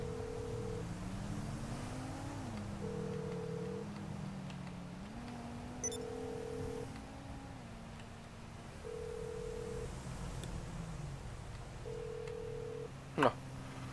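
Unanswered phone call to the mechanic in a video game, a repeating ringback tone in evenly spaced beeps roughly every three seconds over a steady background hum and engine-like drone.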